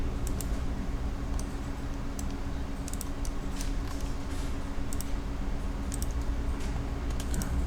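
Computer mouse clicks come from someone building a living-room 3D model, sounding as sparse light ticks scattered over a steady, loud background hum.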